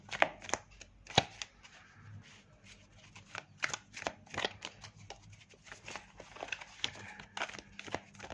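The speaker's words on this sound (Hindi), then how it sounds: "let's shuffle the card" Tarot cards are shuffled by hand close up, giving a run of crisp riffles and soft slaps in an irregular rhythm, fairly quiet, with no talking.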